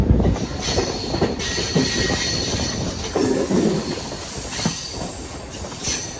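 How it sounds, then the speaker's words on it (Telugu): A train pulls into Tuni railway station on the Rajahmundry to Visakhapatnam special express, with loud rumbling wagons, rhythmic wheel clatter and high squealing wheels throughout, no talking. "సో ఇప్పుడు మనం ఎంటర్ అయిపోయేది తుని రైల్వే స్టేషన్"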